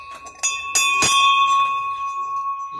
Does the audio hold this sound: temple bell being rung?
yes